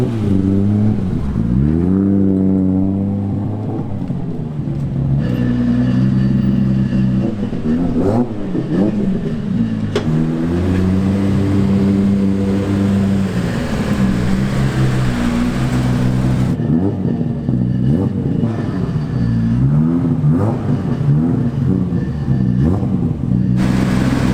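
A 635bhp 2JZ-powered Nissan Silvia S15 drift car engine revs loudly and close, its pitch sweeping up and down in repeated blips over a steady idle rumble, with no talk over it.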